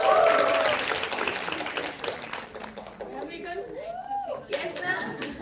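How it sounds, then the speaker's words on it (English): Audience applause and cheering for a woman president at a health conclave in Chandigarh, loud at the start and fading into chatter, with voices and whoops continuing over the scattered clapping. "A big round of applause for our beautiful President, Mrs. Deepika Bhari."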